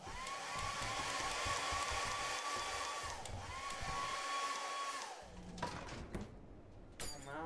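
A hair dryer in the video game Lethal Company whirs steadily with a high whine for several seconds, then cuts off, followed by a few clinks and knocks.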